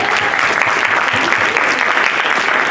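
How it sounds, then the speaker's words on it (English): Loud, dense audience applause at a convention game show, steady throughout with no gaps. "let's give a round of applause to our three players, Beeton, Kitch, and Kelchan."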